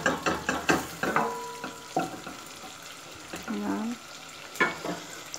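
Ginger frying in a pan for a homemade chicken curry, with repeated scraping stir strokes over a soft sizzle, a few clattering knocks, and no talking.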